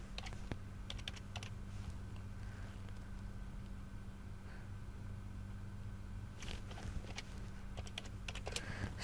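Quiet clicking of keys on a computer keyboard while entering a value in an app design, irregular bursts of keystrokes near the start and end over a steady low hum.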